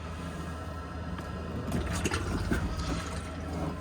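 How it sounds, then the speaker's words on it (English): Fresh water flushes from the pump into the bowl of a motorhome toilet on a Chausson 660, a steady close rush of water and trickling that swells slightly midway and keeps running to the end. "to flush your toilet, as long as you've got fresh water in the tank and your water pump on, you just want to press this blue button down here"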